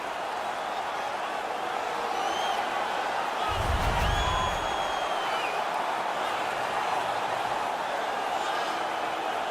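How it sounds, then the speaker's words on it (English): Hockey arena crowd roaring after a Toronto Maple Leafs player wins a fight against Chicago, a steady loud wash of cheering and whoops with a brief low thump near the middle. "The crowd is ecstatic."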